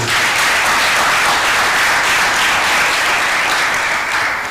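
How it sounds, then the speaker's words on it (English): A loud, sustained round of applause fills a symposium hall on technology, security and development, dense and steady without a break for the full stretch, with no voices standing out. "Probably a loud round of applause would do."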